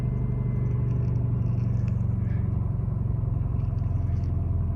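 An older car's engine idles slightly high, steady with a low, continuous rumble and slight hum, fairly close, with no talking.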